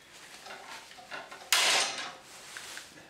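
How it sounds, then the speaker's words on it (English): A hand rivet gun squeezed to set a blind rivet gives one sharp metallic snap as the mandrel shears off midway, preceded by faint clicking handle movements, close and alone. "we can then squeeze the handles together"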